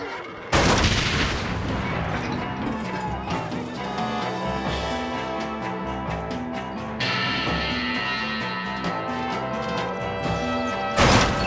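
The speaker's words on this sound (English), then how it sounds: "Keep shooting back!" Gunfire from a Red Dead Redemption shootout at a Mexican presidio gate, dense and continuous over busy game music, with sharp bursts at the start and end.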